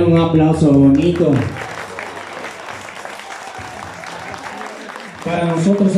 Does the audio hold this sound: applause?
yes